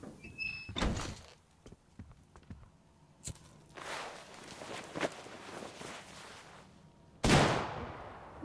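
Sharp gunshots in a video game, a few scattered blasts with a loud final shot near the end, among thuds and footstep-like knocks, no talking.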